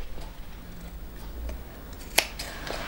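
Scissors snipping fabric around sewn Christmas tree shapes, with a few quiet, close cuts and one sharper snip near the end, no talk.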